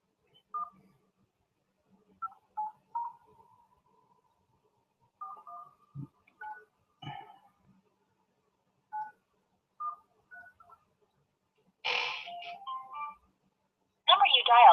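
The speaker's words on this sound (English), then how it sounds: "I'm going to call Jeffrey." Telephone keypad tones sound as a series of short separate beeps, spaced irregularly while a number is dialed, followed by louder ringing bursts near the end; no speech is heard.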